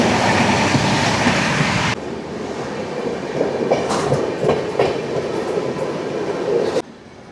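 At night, from aboard the Padatik Express (train 12378), a loud rushing roar of a passing train cuts off abruptly. Then comes a quieter rolling clatter of wheels with scattered squeals and clanks before another sharp drop.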